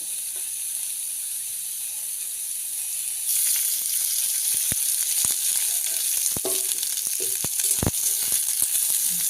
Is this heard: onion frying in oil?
yes